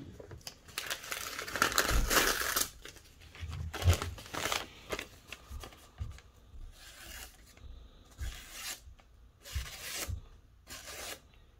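A Civivi Synergy 3 knife slices through a piece of paper in several close, crisp, rasping strokes, each a short crinkling swish separated by brief pauses.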